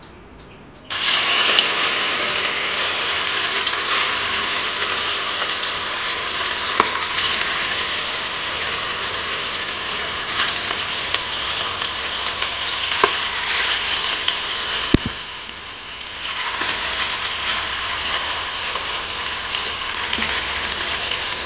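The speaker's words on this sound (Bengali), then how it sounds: "কড়াতে আমি তেল দিয়ে দিয়েছি, তেলটা গরম হয়ে গেছে, এখন আমি মাছগুলো উঠিয়ে দিচ্ছি।" Fish frying in hot oil in a kadai: a loud, dense sizzle bursts in after a second of quiet and runs on steadily, with a brief dip near the end, and no voices.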